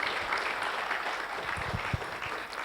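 A crowd applauds steadily, a dense wash of clapping that holds at even loudness throughout.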